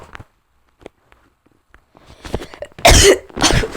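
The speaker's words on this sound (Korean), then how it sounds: "아우, 기침 나와." A few harsh, close coughs burst out near the end, following a stretch of near silence broken by faint rustles.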